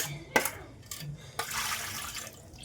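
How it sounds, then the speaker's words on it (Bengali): Tap water runs steadily into a sink while fish is rinsed clean, with a few louder splashes and knocks breaking through the continuous flow. "তো চলে এসেছি মাছ ধুইতে"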